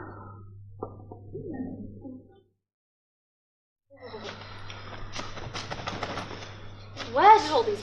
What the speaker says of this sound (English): Where did all these birds come from?